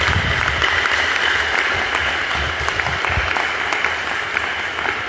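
An audience at an ashram gathering on Guru Purnima claps steadily to welcome the singers Gayathri Girish and Aishwarya, a dense wash of applause throughout.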